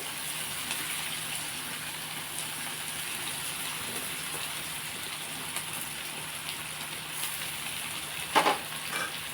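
Egg and capsicum curry left to simmer in a pan gives a steady, even sizzle and hiss, with a brief louder crackle near the end and no voices.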